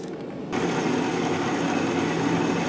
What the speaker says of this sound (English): I'm gonna get it cutting on the bandsaw.